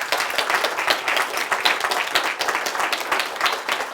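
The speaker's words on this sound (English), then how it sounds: "Give them a nice round of applause" An audience claps steadily after speakers at a panel event on icy moons and Mars, dense continuous applause throughout.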